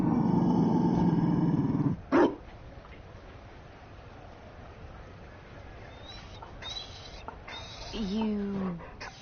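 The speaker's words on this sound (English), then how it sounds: "You found a dog?" A Mabari war dog in a video game growls low and steadily for about two seconds, then gives one sharp, loud bark, followed by quieter ambient noise with faint chirping tones.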